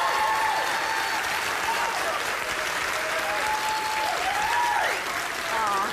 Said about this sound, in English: Oh, what a thunderous applause for you.